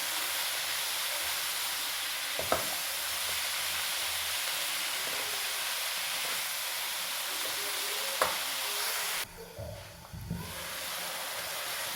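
Vegetables and green chillies fry in a pan with a steady, close hiss and sizzle, broken by a couple of clatters and a brief dip when the heat settles, no voices.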